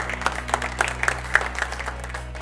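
Scattered clapping from a small audience in a hall, light and uneven with individual claps standing out, over a steady low hum.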